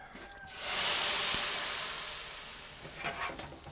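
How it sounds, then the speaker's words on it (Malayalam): Fried mustard seed tempering poured into a chicken curry bursts into a loud, hissing sizzle that swells quickly, then slowly fades, with a few soft clinks of stirring near the end. "അതിലേക്ക് നമ്മൾ കടുക് വറുത്ത് ഒഴിക്കുകയാണ്."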